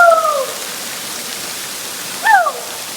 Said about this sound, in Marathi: तिकडे बी धबधबा मोठा जबरदस्त वाटतंय ना सुपर